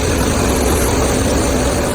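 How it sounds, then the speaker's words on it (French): Claas Lexion 7700 combine harvester with a 1580-horsepower MAN engine during a wheat harvest in Norfolk, a loud, steady mechanical roar and drone that holds constant, heard close with no talking. "La Lexion 7700, propulsée par un moteur MAN depuis de 1580 chevaux vapeur, est une véritable usine mobile."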